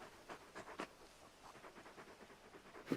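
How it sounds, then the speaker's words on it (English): Torgal, a large dog in Final Fantasy XVI, pants softly in quick, rhythmic breaths, close but quiet, ending in a brief louder sound. "You're just a big puppy, aren't you? A very big puppy."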